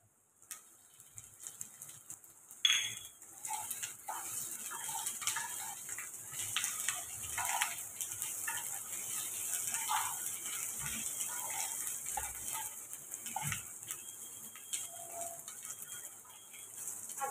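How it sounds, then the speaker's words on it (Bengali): Ginger frying in a pan for a vegetarian dish, with a steady hiss of sizzling and scattered scrapes and taps as it is stirred, moderately quiet and continuous without speech. "আদাটা একটু নেড়ে নিই"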